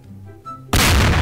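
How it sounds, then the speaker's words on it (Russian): An explosion in the video game Garry's Mod bursts in as a sudden, loud, broadband blast that stays dense and roaring to the end, after a quiet lead-in with faint game tones. "Я, короче, буду взрыв отсюда наблюдать."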